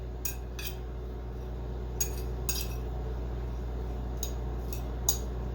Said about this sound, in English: Mix that up quite effectively.